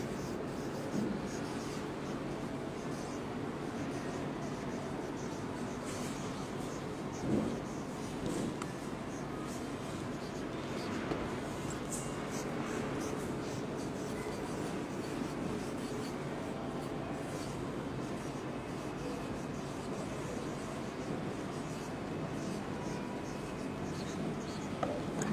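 Pen writing letters on paper during a nursery-class English lesson, a continuous soft scratching that lasts the whole stretch at close range, steady and fairly quiet, with no talking.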